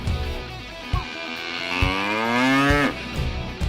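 A cow gives one long, loud moo close by, rising and holding before cutting off, with a few dull thumps before and after it.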